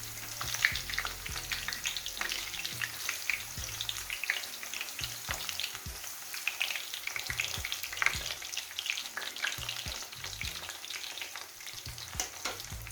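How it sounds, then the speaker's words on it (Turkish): Eggplant slices sizzle steadily in hot oil, a bright crackling hiss with occasional pops and a few clattering bumps of a utensil. "hazırlamış olduğumuz patlıcanları kızgın yağımıza koyuyoruz kızartmaya başlıyoruz"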